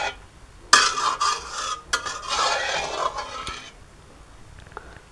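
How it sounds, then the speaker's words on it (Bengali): A spoon stirs milk in a pot on the stove as it heats toward a boil, giving a few loud scraping and clinking strokes with a soft sizzle underneath, then fading to near quiet. "একবার বলক আসা পর্যন্ত দুধটাকে নাড়তে থাকবো"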